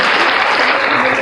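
An audience claps steadily and loudly at a lively religious debate, the dense applause filling the moment without pause.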